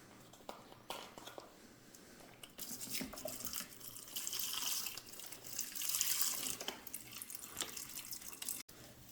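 Store-brand vegetable broth pours into a pot of rice in a steady, splashy stream that swells and trickles on for several seconds.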